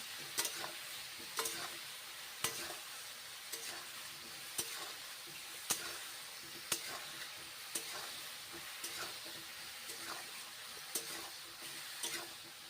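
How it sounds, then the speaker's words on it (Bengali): Mushrooms frying with turmeric powder in a pan, a faint low sizzle punctuated by sharp, regularly spaced clicks of a spatula against the pan, heard up close and quietly with no voices. "হলুদ গুঁড়ো দিচ্ছি ভেজে নিচ্ছি"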